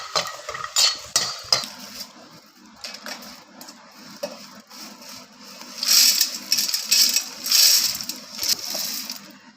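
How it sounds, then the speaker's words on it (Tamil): Garlic cloves are dry-roasted in a pan without oil, with close clattering and scraping of a metal spoon against the pan in irregular bursts that grow busier and louder toward the end. "எண்ணெய் இல்லாமல் இந்த பூண்டை வந்து வறுத்து எடுத்துக்கிறேன்"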